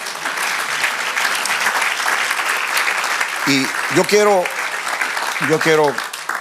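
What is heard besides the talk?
church congregation applauding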